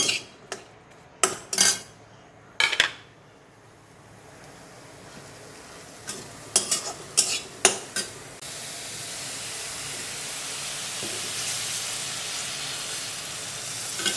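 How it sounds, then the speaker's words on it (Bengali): Onions are dropped into a hot pan for bhindi fry after several sharp metallic clinks of utensils, then a broad, steady sizzle and hiss spreads and holds through the second half, with no talking. "পেঁয়াজ দিয়ে দিলাম"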